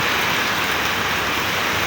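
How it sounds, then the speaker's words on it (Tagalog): Dense, steady rain roars without a break, a broad hiss of heavy downpour close by. "Nakabutan na ng malakas na ulan."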